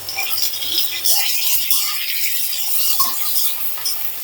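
Okra fried in butter is stirred in a pan, soft scraping and rustling with light sizzle and occasional clinks, fairly close and uneven in rhythm.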